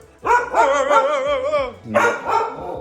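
A dog close by lets out a long, wavering whine-like bark, followed by two shorter barks after a brief pause.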